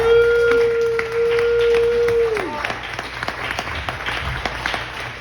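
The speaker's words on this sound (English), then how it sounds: "Keep the claps going for Clarice." A comedy open-mic audience claps warmly for several seconds, the applause thinning into scattered claps, with a whistle at the start.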